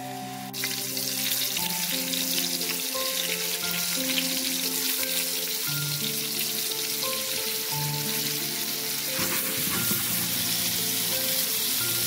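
Fish pieces frying in hot oil for a Bengali bean curry give off a dense, steady sizzle that stays loud and close the whole time, with no talking.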